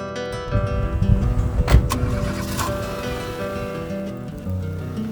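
A car wakes up for driving, with a whirring electric motor and mechanical clunks followed by a steady hum, close and fairly loud, with no talking.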